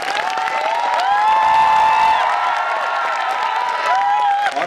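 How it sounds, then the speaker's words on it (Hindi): Seminar audience bursting into loud, sustained applause and cheering in a large hall, clapping steady and dense throughout with a bright tone sweeping over it. "जोरदार ताली बजाएं"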